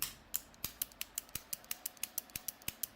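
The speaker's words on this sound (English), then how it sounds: "you can make this clicky sort of sound and action when you push the cards out" A minimalist fidget wallet with a magnetic clasp clicks again and again as cards are pushed out. The sharp, close, quiet clicks come in a fairly steady, quick rhythm.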